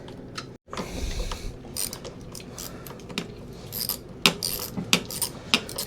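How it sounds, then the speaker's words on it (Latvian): Metallic ratcheting and clinking as brake caliper bolts are screwed back onto a Honda Africa Twin motorcycle, irregular close-up clicks and tool taps with a brief silent gap near the start. "Tagad 2 skrūves pieskrūvēt un suports ir vietā."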